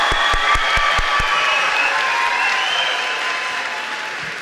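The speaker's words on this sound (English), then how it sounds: "let's cheer our graduates and shake this hall." A graduation ceremony audience fills a hall with loud, sustained applause and cheering, a dense crowd of clapping hands with a few sharp thumps at the start that gradually eases off.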